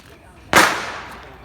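A single firecracker goes off with a loud, sharp bang that quickly fades out, with people talking around it.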